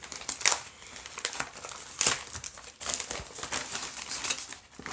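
A small paper envelope from a cardboard parcel is opened by hand, giving a run of crinkling and tearing rustles with sharper crackles at intervals, close and fairly quiet, with no talk.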